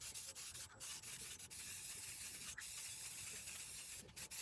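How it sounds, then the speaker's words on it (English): A spray can of red paint hisses steadily and continuously, with brief bursts of rattling and rubbing cutting in. No voices are heard. "take these outside and spray paint them red"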